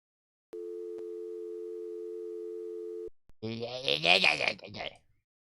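A telephone in Gabriel Knight: Sins of the Fathers gives a steady electronic tone, held clear and alone for about two and a half seconds before cutting off, followed by a burst of a voice speaking.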